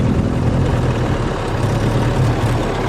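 A 1913 Bugatti Type 22 car drives with a steady, low engine drone and rumble, close and continuous, blending with road and wind noise.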